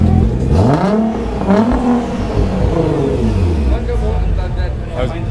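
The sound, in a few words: sports car engine revving against rev limiter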